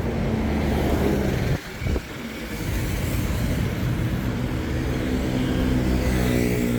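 Busy Bangkok street traffic with cars and buses passing close by, a steady loud roadway rumble with engines revving and a brief lull midway, no voices.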